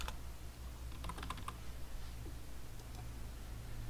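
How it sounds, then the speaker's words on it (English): A name is typed on a computer keyboard in a quick burst of soft key clicks, followed by a couple of lone taps over a low steady hum. "I'll type in my name to start the chat"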